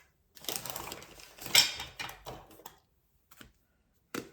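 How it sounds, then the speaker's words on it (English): Rubber stamps pressed onto a sheet of paper, inked with VersaFine Onyx Black: a quick cluster of soft tapping thumps and handling clatter, close and fairly quiet, followed by a pause and a couple of isolated taps. "we might as well stamp them all onto one sheet"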